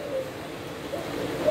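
Thai Van Hoa breeding doves coo softly in a low, repeated murmur, several short hooting calls rising over a steady background, nearby and moderately loud.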